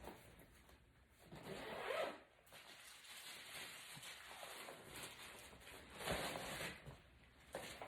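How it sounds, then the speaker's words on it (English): A barber's tool bag is zipped closed, with quiet close zipper rasps in several pulls, two strokes louder than the rest, amid faint handling rustle. "So the bag, you can just zip up and put it back under your station."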